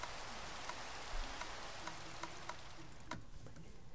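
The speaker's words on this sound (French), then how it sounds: "La pluie est plutôt chiante d'ailleurs." Rain falling in a Minecraft-style video game, a steady hiss of patter with scattered sharper drops and light ticks, soft and continuous with no voices.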